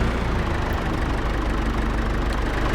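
A 50 horsepower John Deere tractor engine idles steadily in Farming Simulator 22, a continuous low mechanical rumble with a slight knocking texture, even in level throughout and heard alone.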